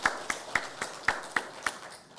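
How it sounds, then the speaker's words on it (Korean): A small church congregation in Cheongsan, Wando County, claps at a steady, fairly slow rhythm, about eight distinct claps in two seconds, moderately close and somewhat sparse. "하나님께 영광의 박수 올려드리겠습니다."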